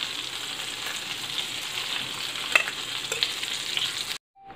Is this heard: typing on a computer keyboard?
no